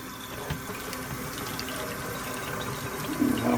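Hot tap water pours steadily into a kitchen colander in a sink, a constant close splashing rush that swells slightly louder near the end, with no voices.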